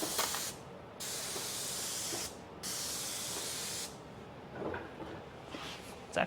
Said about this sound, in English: Let's see what it looks like when we start spraying on a piece of wood.